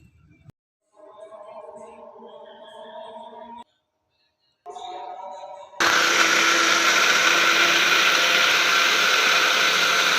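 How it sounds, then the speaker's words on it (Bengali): Electric blender whirring loudly and steadily through boiled tomatoes for homemade tomato sauce, a dense continuous roar that starts abruptly partway through, after quieter stretches of kitchen sounds. "জুড়িয়ে গেলে একটু পর ব্লেন্ডার করব।"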